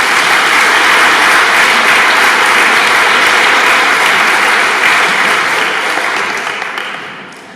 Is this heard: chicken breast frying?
no